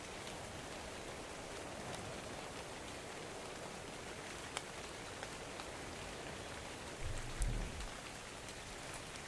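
Steady rain falls in the survival game ARK, a constant even hiss with faint scattered drop ticks and a brief low thump partway through, with no voices.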